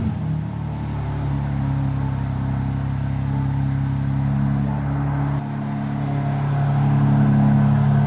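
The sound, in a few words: BMW G82 M4 cold start with titanium Valvemaster exhaust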